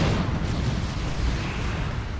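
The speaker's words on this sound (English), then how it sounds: "Stranglethorn Cannon getting some good hits" Stranglethorn Cannon artillery fire in the Dawn of War 2 strategy game, heavy rumbling booms blurring into a dense, continuous roar of battle.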